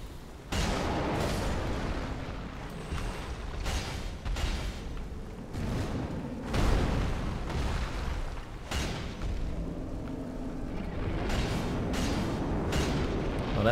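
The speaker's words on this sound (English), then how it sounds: "Well, that's his explosion, isn't it?" Repeated heavy booms and crashing blasts from Dark Souls 3 combat, loud and close, layered over continuous rumbling game noise for the whole stretch with no talking.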